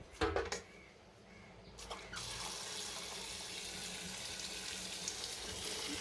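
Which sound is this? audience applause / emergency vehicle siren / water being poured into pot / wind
water being poured into pot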